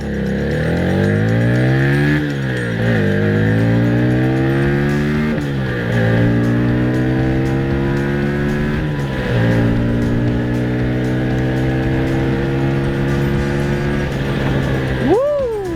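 An FKM Victorino 250i motorcycle engine revs up through its gears in repeated rising pulls, loud and close, dropping briefly between shifts before climbing again.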